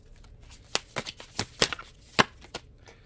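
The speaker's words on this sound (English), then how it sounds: "Let's do a split of the deck and shuffle this properly here." A tarot card deck being split and shuffled by hand, a run of crisp riffling snaps and slaps in an uneven rhythm, close and clear with no talk.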